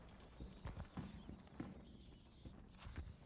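Footsteps in the horror game AWAKENED: faint, steady clopping steps with an even walking rhythm that sound close but quiet, with no talking over them.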